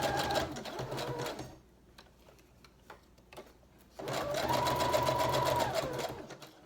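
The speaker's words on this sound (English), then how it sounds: "Now I'm gonna sew this pocket on" A sewing machine stitches a paper pocket onto a journal page in two bursts of rapid mechanical whirring, split by a quieter stretch of faint ticks and handling noise, all close up.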